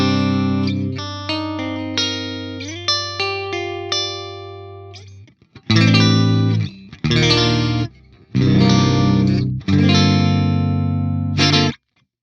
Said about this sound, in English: let me turn off some of these other effects and kind of show you what it sounds like with just the amp and the cabs together.